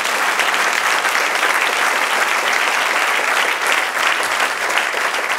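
A church congregation applauds loudly during a sermon, with dense, continuous clapping from many hands held at full strength throughout.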